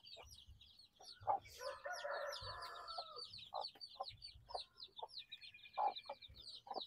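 Crossbreed chicken chicks peep in a high, busy chorus in a poultry pen, while clucks and the crowing of adult chickens sound faintly beneath them.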